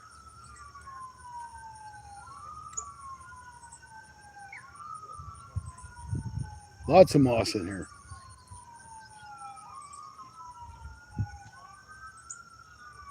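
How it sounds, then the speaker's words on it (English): A faint ambulance siren on a highway, rising and falling in long sweeps in the distance, while someone speaks briefly nearby at a lake. "I hear an ambulance or something going across the highway"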